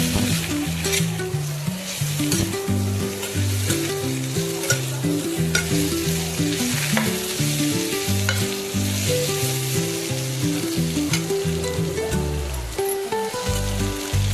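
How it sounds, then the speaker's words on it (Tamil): Eggplant sizzles in hot oil in a pan for a spiced brinjal gravy, a loud, constant frying hiss close by, with the rhythmic scrape and clatter of a spatula stirring the pieces. "நம்ம எடுத்து வச்ச கத்திரிக்காயை நம்ம அதில் சேர்த்துக்கிறேன்."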